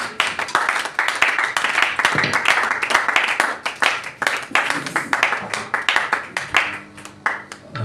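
A church congregation clapping and applauding, steady rhythmic claps from many hands, loud and continuous, with a few voices mixed in.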